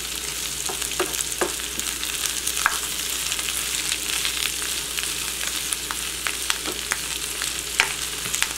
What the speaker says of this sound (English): work those greens into the pan so that it can cook down a little.